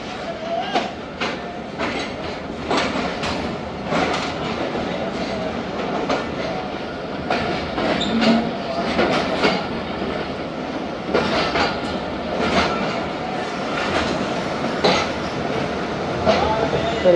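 Train pulling into platform 5 at a railway station, a steady loud rumble with repeated clickety-clack wheel beats throughout, and a person talking over it.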